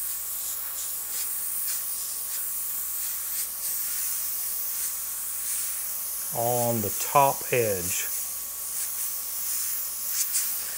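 A faint, steady airbrush hiss sprays paint onto paper, running under a man's brief spoken remark.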